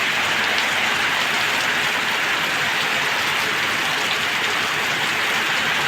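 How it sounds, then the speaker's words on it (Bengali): Steady, dense hiss of rain falling over hills, an even broadband wash that stays constant and fairly loud throughout, with no voices or distinct drops standing out. "পাহাড়ের ওপরে বৃষ্টি হচ্ছে দেখতে পাচ্ছ কি"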